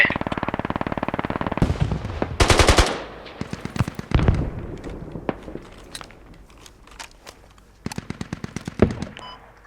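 Rapid gunfire in the tactical shooter Squad, with close bursts of automatic fire and scattered single shots cracking in irregular clusters, some louder and nearer, others fainter, with brief quiet gaps between volleys.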